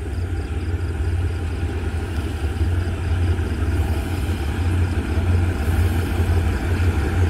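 The Cummins diesel engine of a locomotive on ordinary train 277 from Bangkok to Kabin Buri runs with a steady, loud, low drone and an even mechanical hum throughout.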